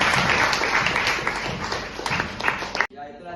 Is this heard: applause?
yes